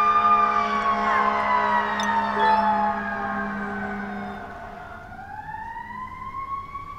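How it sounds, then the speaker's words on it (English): Several fire engine sirens wail loudly together, their tones sweeping and overlapping, then one pitch drops and rises again as the sirens continue close by. "Oh my god, sirens, shut up."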